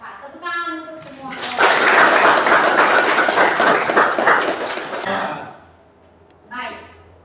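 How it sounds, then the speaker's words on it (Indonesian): Classmates burst into a loud, dense round of clapping for fellow students in a school lesson, lasting several seconds between a teacher's spoken words before and after. "Tepuk tangan untuk semua."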